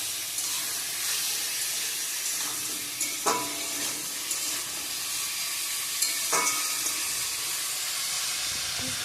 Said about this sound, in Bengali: ভালো করে ভাজা ভাজা করে নিয়ে নিই।